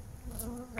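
Honeybee swarm buzzing steadily close by, a continuous hum with a brief sharper whine near the end, no voices.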